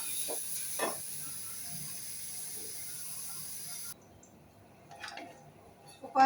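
Bitter gourd stuffing, salted, sautés in a pan with a steady close hiss for about four seconds that then cuts off, leaving a few faint clicks and scrapes.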